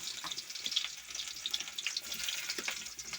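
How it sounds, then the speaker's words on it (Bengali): Chopped onion fries in hot oil with a steady, fairly quiet crackling sizzle that stays even throughout, with tiny pops scattered over it and no voices. "এখন আমি পেঁয়াজ কুচি দিলাইমু তেলের মাঝে"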